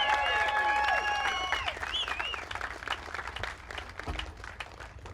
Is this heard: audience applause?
yes